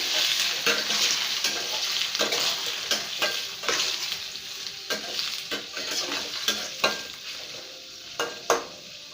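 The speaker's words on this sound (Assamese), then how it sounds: "মই তেলত পনীৰটো দি দিছোঁ।" Paneer sizzles and spits in hot mustard oil in a wok at close range, a steady frying hiss broken by repeated spatula scrapes and taps against the pan.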